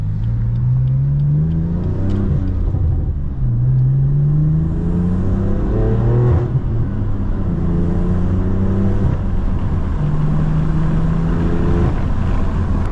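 A BMW M4 Competition fitted with an AWE SwitchPath exhaust revs repeatedly, each rise in engine pitch climbing and falling back over a constant loud rumble, heard close and steady with no talk.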